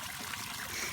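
Small garden waterfall in a tropical backyard garden, water trickling steadily over plastic liner among plants, a soft continuous splashing hiss that stays even and close throughout.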